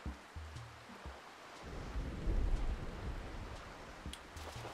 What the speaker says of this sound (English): Just the raindrops.